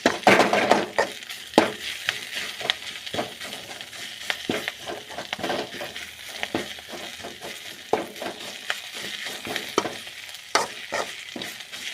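Drumstick (moringa) leaves fry and crackle in sesame oil in a pan, a steady close sizzle broken by frequent scraping stirs of a spoon against the pan, with no voices.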